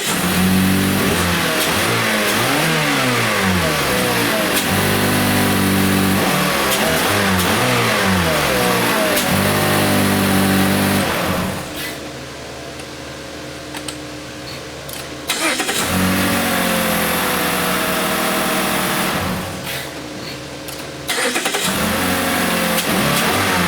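A warm 2013 Mazda engine with a fuel pump module fuse fault cranks and catches, then revs repeatedly in loud rising and falling bursts, with brief drops back toward idle between them.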